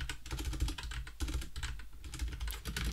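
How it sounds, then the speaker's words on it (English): Steady, rapid clicking of keys on a computer keyboard, continuous typing close up with no voices over it. "typing"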